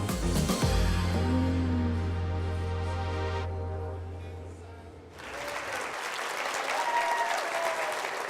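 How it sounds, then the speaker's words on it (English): An audience applauds at a Hard Rock Rocksino stage show, a broad, steady wash of clapping that continues to the end, with a music sting ending partway through. "Now that's a nice round of applause for Kozar's, and Chris Poplin is here."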